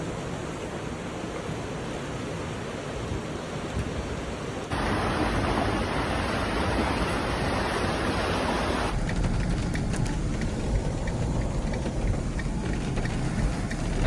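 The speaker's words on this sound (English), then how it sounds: "Due to the downpour, some homes and businesses were also flooded" Heavy rain in Ankara floods the streets with a dense, continuous roar of downpour and rushing water, loud and steady throughout with no voices.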